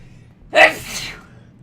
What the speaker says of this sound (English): Oh god, I sneeze.